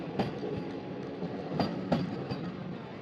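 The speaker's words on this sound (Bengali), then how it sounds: "আমাদের দাঁড় করে রেখে এই সাইড দিয়ে এখন পাস করছে বারাণসী রাঁচি বন্দে ভারত এক্সপ্রেস" Saffron Vande Bharat Express from Varanasi to Ranchi passing on the next track, a steady rumble with a few rhythmic wheel clacks, moderately near, no talk.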